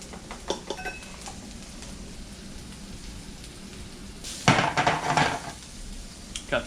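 Vegetables cooking in a cast iron pan crackle softly at first, then a louder burst of sizzling and scraping rises in the middle before fading back to a low hiss, with a few light knocks.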